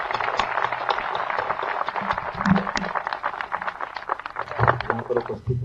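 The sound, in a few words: audience applause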